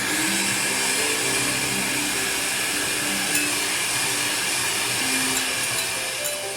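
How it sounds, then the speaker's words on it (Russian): An electric mixer whips meringue with a pinch of salt, a loud, unbroken motor whine that holds steady from start to finish, close by and with no voices. "Добавила щепотку соли, начинаем взбивать."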